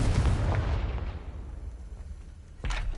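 A Confringo fire spell in Hogwarts Legacy bursts with a heavy explosive boom that rumbles and fades, followed by a second sharp blast near the end.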